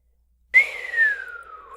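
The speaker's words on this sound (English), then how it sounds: "Catherine whistled in surprise" A single clear whistle slides downward from high to lower pitch, loud and close, after a moment of silence.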